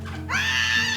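A woman screams in an audio drama, a sustained, loud, high shriek rising abruptly after a brief quieter lead-in and holding steady to the end, with a low hum beneath.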